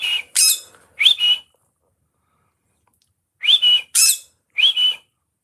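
A pet bird indoors gives sharp, shrill whistles and squawks in two clusters of short bursts with a pause between, loud and close, with no talk.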